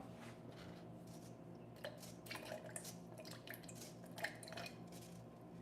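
Cashews being rinsed under running water in a kitchen, a faint, low trickle with scattered soft drips and light clinks of a bowl or strainer.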